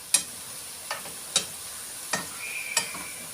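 Kozalak mantısı, pine-cone-shaped Turkish dough pastries, fry in shallow oil with a steady soft sizzle, broken by sharp utensil taps roughly every three-quarters of a second as they are turned.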